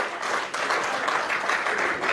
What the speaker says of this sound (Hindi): देखिए वो ताली बजा रहे हैं